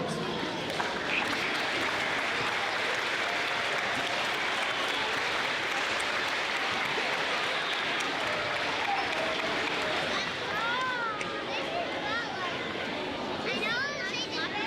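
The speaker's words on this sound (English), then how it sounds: "one more big round of applause for Mrs. Frederick's class" Sustained applause from a school awards ceremony audience fills the room for a class, dense and steady, with children's voices and chatter mixed in toward the end.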